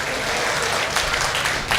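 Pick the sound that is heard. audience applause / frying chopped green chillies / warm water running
audience applause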